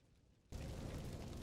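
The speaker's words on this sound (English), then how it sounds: "create a fireball in your hand and then throw that fireball" A thrown fireball in the game Needle starts abruptly after a quiet moment, becoming a sustained, broad fiery whoosh and roar that holds steady and loud for about a second.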